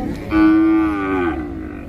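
A single loud, close moo from a bull at the Ashulia cattle market, a long sustained low call lasting about a second that fades out, with no talk.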